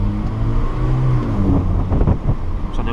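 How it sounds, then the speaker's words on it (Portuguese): Car engine under load through a first-to-second gear change with a muffler fitted, a steady loud engine drone with a brief turbo whoosh and no backfire pop at the shift, close by. "Só deu pra escutar o barulho do turbo"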